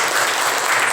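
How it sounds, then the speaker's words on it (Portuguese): A church congregation applauds the Lord during a service, a brief burst of dense, continuous clapping from many hands in a reverberant hall. "Aplauda o Senhor."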